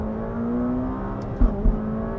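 A McLaren 570S Spider engine pulls hard under full throttle in track mode, a steady, close droning roar with two brief thumps near the end, alone without talk.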